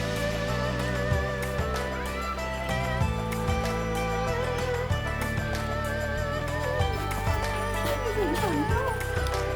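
At a village horse-riding service in northern Thailand, horse hooves clip-clop in a steady, repeated rhythm, moderately close, largely under continuous background music with a voice faintly present.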